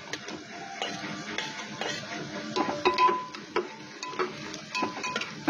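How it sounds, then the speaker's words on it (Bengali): Ginger-garlic paste frying in a pan for a cauliflower ghonto, with scattered scraping and clinking of a spatula stirring over a soft sizzle. "এখন দিয়ে দেবো আমি আদা রসুন বাটা"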